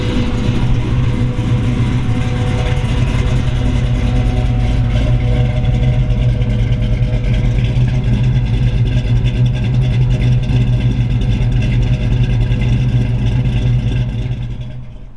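A 1969 Chevrolet Camaro SS 427 V8 idles steadily with a low, loping rumble, close and loud, holding an even pulse for the whole stretch before fading slightly at the end.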